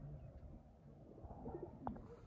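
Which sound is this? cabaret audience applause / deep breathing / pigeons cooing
pigeons cooing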